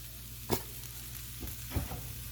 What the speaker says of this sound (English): Then I mix it very well.